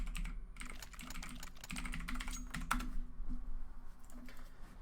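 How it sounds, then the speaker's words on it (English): A player types rapidly on a computer keyboard during an esports playoff match, a dense, steady clatter of keys over a low background hum, with no speech. "You're typing away."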